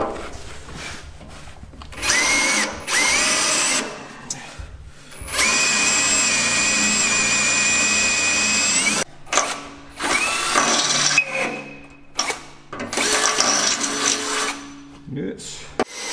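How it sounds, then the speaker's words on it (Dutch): A power drill bores through Volvo BV202 chassis parts in several loud, whining bursts of a few seconds each, separated by pauses with faint handling noise. "dan kunnen we ze er doorheen boren."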